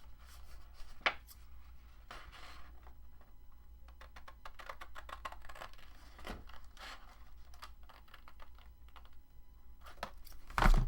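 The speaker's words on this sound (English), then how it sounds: "we need to cut out this whole square. So I'm just going to cut" Scissors or a craft knife cutting out a square of paper material for a small folio, a quiet run of short crisp snips and scrapes close by, ending with a louder rustle.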